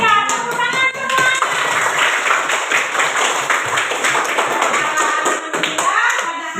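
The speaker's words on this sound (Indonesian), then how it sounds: "tepuk tangan semua." A class of pupils clapping their hands together in a sustained, lively round of applause, close and loud, with a brief voice at the start and near the end.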